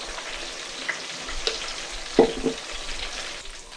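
Ingredients for jollof rice frying in a pan make a soft, steady sizzle, fairly faint, with one brief knock partway through and no voices.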